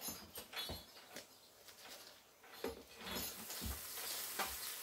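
Batter for a flourless gluten-free pizza sizzles and crackles in an oiled pan, a steady close hiss punctuated by soft patters and stirring scrapes, with no talking.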